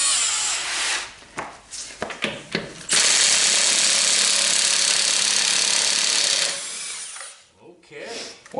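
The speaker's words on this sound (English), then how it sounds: "we're about ready to take off the lug nuts, and I'm going to use a 21 millimeter" Power tool loosening car wheel lug nuts with a 21 mm socket during front brake work on a Toyota Camry, Avalon or Lexus. Short rattling bursts lead into one long loud whirring run that then fades, heard close.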